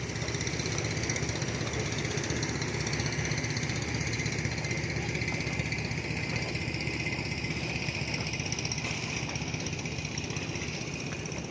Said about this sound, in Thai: คาดว่าเรือ ประมงคันดังกล่าวกำลังถูกลากจูงไปที่ สะพานปลา